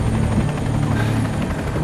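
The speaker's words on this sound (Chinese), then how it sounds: "人家是武装直升机，我们是运输机" An armed military helicopter flies overhead, its rotor throbbing steadily and loudly without pause, with no voices.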